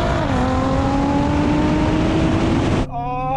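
A Porsche 911 Turbo, BMW M8 and Nissan GT-R drag race on a wet strip, with loud, close sustained engine roar climbing steadily in pitch under acceleration, then cutting off abruptly as the engine note drops near the end.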